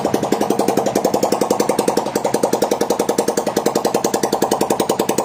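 A motorcycle engine runs after an 80% engine rebuild, recorded close up. Its loud, rapid, evenly spaced thumping beat holds steady throughout.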